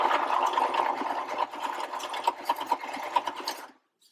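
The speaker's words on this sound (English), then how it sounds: "Stick it into your sewing machine, put your presser foot down." A sewing machine stitching and back stitching through a fabric cloth diaper, a steady close whirring hum with small rhythmic ticks that runs for several seconds before stopping abruptly.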